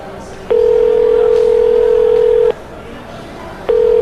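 A telephone dialing out, heard as a steady electronic tone that sounds for about two seconds, cuts off, then starts again, loud and close over faint background murmur.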